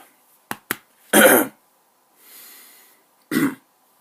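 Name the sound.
throat clearing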